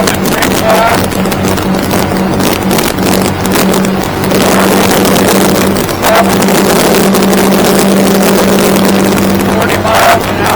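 A Stabicraft 2250 aluminium boat powered by a Yamaha F150 outboard runs fast at high revs, giving a loud, steady engine drone mixed with rushing wind and water across the whole stretch.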